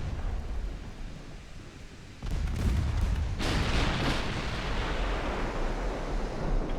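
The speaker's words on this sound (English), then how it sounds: "you're doing the thing where everyone is firing at one ship again" Naval gunfire from warships in the Ultimate Admiral Dreadnoughts game: after a low rumbling lull, a sudden heavy boom breaks in, followed by a second blast and a long rolling, roaring wash that fades slowly.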